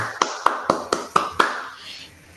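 A handful of people applaud after a talk at an online conference, giving about six sharp, separate claps spaced evenly, close and clear, before the sound trails off.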